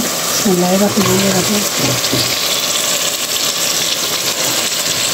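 Fish frying in spice masala gives a steady, loud sizzle and hiss throughout, with a person talking briefly over it near the start.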